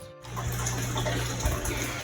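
Water trickling and splashing into a freshwater aquarium tank during an upgrade, a steady bubbly pour with a soft low rumble, continuous and close.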